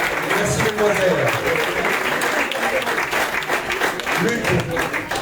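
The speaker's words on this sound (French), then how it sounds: "On peut les applaudir également très très fort." Loud, sustained applause from a crowd at a prize draw, dense clapping throughout with some voices mixed in.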